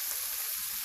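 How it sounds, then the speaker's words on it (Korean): Pork belly grilling outdoors over a fire with water dropwort, a dense bright sizzle and crackle filling the brief moment, close and loud with no voices. "지글지글 삼겹살"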